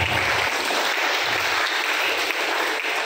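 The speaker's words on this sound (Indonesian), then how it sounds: "Tepuk tangan buat kita." Audience applause at a public speaking and MC training session, a steady wash of many hands clapping together, dense and sustained throughout without a break, with no one speaking over it.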